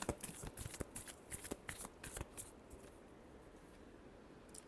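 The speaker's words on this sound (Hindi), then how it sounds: "last shuffle" Tarot cards are shuffled by hand, a quick run of crisp riffling and slapping sounds close by, tapering into quiet after a couple of seconds.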